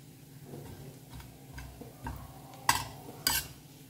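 Cloves, black pepper and green cardamom frying in a pan, a soft sizzle under light stirring with a few sharp clinks of a utensil near the end.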